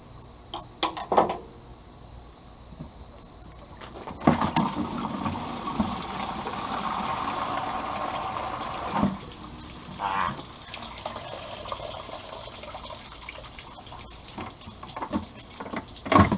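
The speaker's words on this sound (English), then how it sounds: "to drain it we're going to take this hose fitting off and try to launch it into this bucket" Radiator water from a Willys L134 Jeep drains out of a detached hose into a bucket, a steady close splashing and trickling rising midway, with some clanks and handling noises around it.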